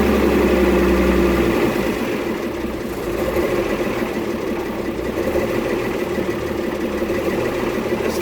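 An M109 engine idles after exhaust manifold gasket work, a steady low rumble that dips and surges slightly while warming up.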